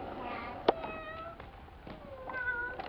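A cat gives several soft, drawn-out meows at close range in a quiet setting, with short pauses between calls.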